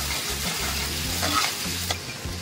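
Garlic and onions sautéing in a pan for a small non-veg dish, a steady close sizzle with occasional scrapes and stirring knocks, no talking.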